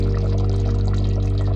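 Water poured steadily into a simmering Kerala-style beef gravy, a continuous close pouring and trickling sound over a low kitchen hum, with no talking.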